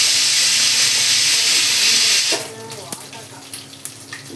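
Dried red chillies drop into hot tempering oil with mustard seeds, cumin and nigella: a loud bright hiss for a couple of seconds, then quieter crackles and clinks as it subsides.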